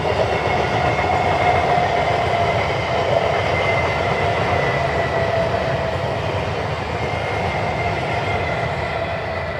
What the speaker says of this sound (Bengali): দেখতে পাচ্ছ ট্রেন যাচ্ছে এখান দিয়ে